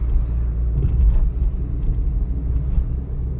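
A car drives along a city road during a practical driving licence exam, its engine and tyre rumble forming a steady, close, continuous low drone inside the cabin with no talking.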